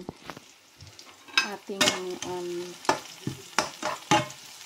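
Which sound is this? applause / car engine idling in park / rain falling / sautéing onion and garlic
sautéing onion and garlic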